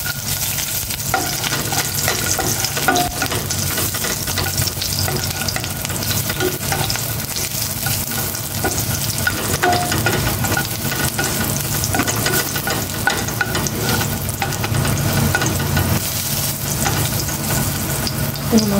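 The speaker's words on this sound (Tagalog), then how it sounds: "Magigisa naman ako ng bawang." Garlic sizzles in hot cooking oil while being stirred, a dense, steady frying hiss that runs continuously and close with occasional scraping of a utensil in the pan.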